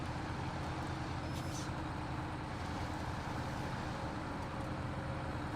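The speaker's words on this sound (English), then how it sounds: "you just gave it the noise of the other truck" Heavy truck engine in the off-road driving game SnowRunner, with a steady low rumbling drone that holds at a constant level throughout, heard alone with no talk.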